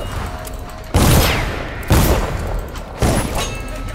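Three heavy gunshots from a gun in the stealth game Dishonored, spaced about a second apart, each a loud booming crack with a rumbling tail over low background ambience.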